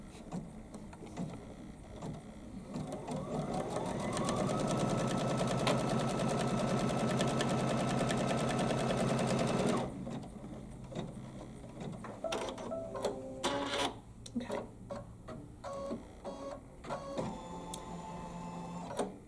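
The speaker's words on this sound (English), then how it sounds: "So we're going to stitch this one line down." A home embroidery machine stitches a single line through fabric, a steady rapid mechanical whir lasting about ten seconds, then it stops and gives way to scattered clicks and handling noises.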